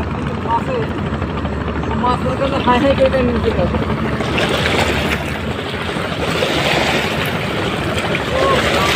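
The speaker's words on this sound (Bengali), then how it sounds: "অনেক জোরে ঢেউ।" Strong waves churning on the Jamuna river during fishing for big carp, a steady loud roar of water and wind with a droning engine-like rumble throughout, no talk.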